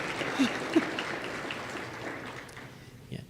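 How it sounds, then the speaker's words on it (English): An audience at a Guide Dogs of Texas event applauds for Seymour, a guide dog. The clapping is a dense, steady patter from a crowd in a room, held at a moderate level throughout with a few brief louder bursts. "Look at that, Seymour. You get applause."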